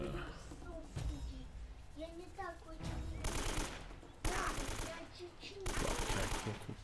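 Bursts of automatic gunfire while shooting in Uncharted, several loud sustained volleys broken by short gaps, with a voice talking over the quieter stretches.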